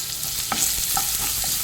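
Finely chopped onion frying in hot oil in a pan for chicken sukka, stirred steadily, with a continuous close sizzle and scattered scraping taps from the spoon. No one speaks.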